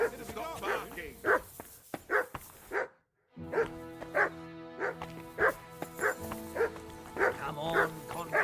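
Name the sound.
dog barking in video game Kingdom Come Deliverance 2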